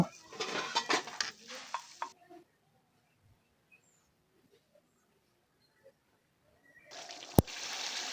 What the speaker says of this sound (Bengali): এখন আমি ভাজা মশলা দিয়ে মুরগির মাংসটাকে কষিয়ে নিচ্ছি।